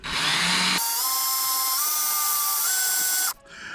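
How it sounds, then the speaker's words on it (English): A power drill whines loudly as it bores through an aluminum rivet head on an aluminum jon boat, its pitch stepping up twice as it bites deeper before cutting off abruptly near the end. "So we're just gonna drill straight through the center of the rivet head."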